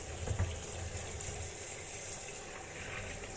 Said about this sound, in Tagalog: maglalagay na ako ng malinis na tubig